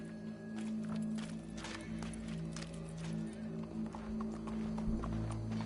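Horse hooves clip-clopping in a PS4 video game, a steady rhythmic series of close hoof strikes over a sustained tonal hum and game music, with brief talk partway through.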